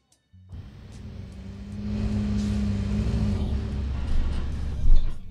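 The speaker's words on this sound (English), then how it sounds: "He's spinning his tires." A BMW strains against a continuous carbon fiber 3D-printed part, its engine and tire rumble rising from silence into a sustained loud roar that swells near the end.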